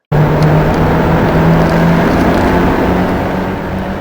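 A Subaru Legacy Wagon on race tires pulls hard down the High Plains Raceway track, engine droning loudly with a steady rising tone and wind rush, no voices.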